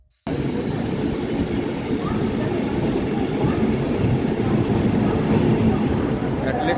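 A passenger train running overnight from Kharagpur toward Visakhapatnam makes a steady low rumble and rattle heard from inside the carriage, continuous and fairly loud throughout.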